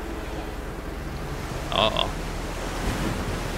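Ocean waves in the video game Age of Water, a steady broad wash of surf with a faint low rumble throughout and a short voiced exclamation in the middle.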